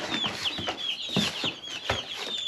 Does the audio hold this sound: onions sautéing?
no